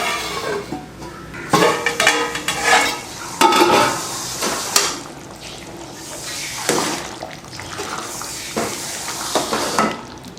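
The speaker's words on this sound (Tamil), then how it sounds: "இப்போ நான் மூடி வைக்கிறேன்." Metal clatter and scraping of a lid and pot handling sound over the bubbling and sizzling of bottle gourd curry cooking, with several distinct clanks and knocks, fairly close and loud.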